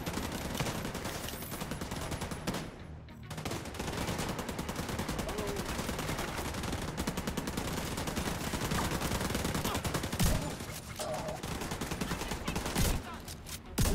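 Sustained rapid gunfire from a pre-order bonus gun in The Division 2, a continuous loud automatic stream that runs almost the whole time with only brief pauses, with a voice talking faintly underneath.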